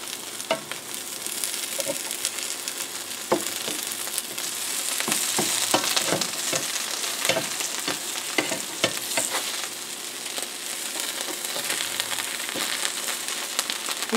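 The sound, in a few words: grilled cheese sandwich frying in a pan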